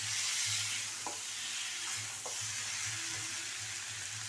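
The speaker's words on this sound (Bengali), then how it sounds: "এটাকে ভালো করে একটু ভেজে নিতে হবে।" Oil sizzling in a pan as ingredients for a prawn curry with banana and potato are fried and stirred, a steady close hiss with a few soft scraping stirs, no voices.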